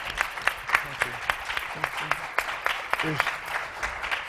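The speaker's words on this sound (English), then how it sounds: "give them another round of applause" Applause from the audience at a Mothers of the Movement panel during a virtual convention: scattered, fairly sparse claps at a moderate distance, with individual hand strikes standing out in an uneven rhythm and a faint voice murmuring underneath.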